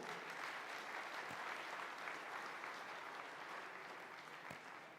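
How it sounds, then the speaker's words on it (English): Audience at the Africa Urban Forum in Nairobi applauding steadily, a dense even wash of clapping that holds for several seconds and tapers slightly at the end, with no speech over it. "A round of applause for the report."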